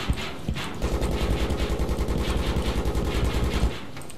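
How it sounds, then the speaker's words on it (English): Sustained rapid automatic fire rattles at a tank in Battlefield 3 gameplay, heard as a steady loud burst of evenly spaced shots lasting several seconds, close and without talking. "Got a few shots into the tank."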